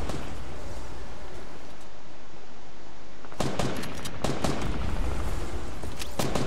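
Bursts of video game gunfire crack out in the second half after a quieter stretch of ambient game noise, several sharp shots spaced irregularly and fairly loud.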